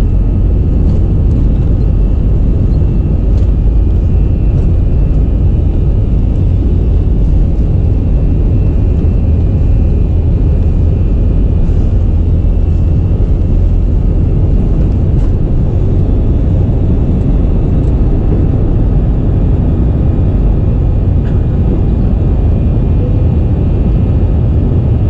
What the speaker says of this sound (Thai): แล้วตอนนี้เครื่องก็ทะยานขึ้นมาบนท้องฟ้าแล้วครับ